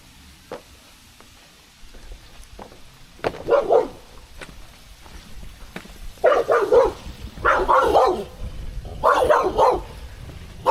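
Dog at a wild campsite on a mountain ridge barking in short bursts, starting with sparse single yips and building to louder clustered barks close by, with faint background noise between.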